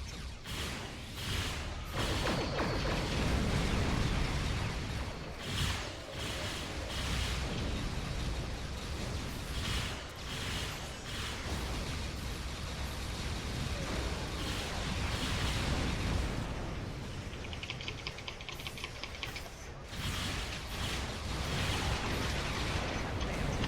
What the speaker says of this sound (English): I like the sound of the cannons.